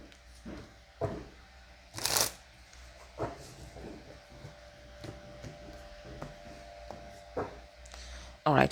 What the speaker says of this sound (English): let's pull some cards on this and do a bit of clarification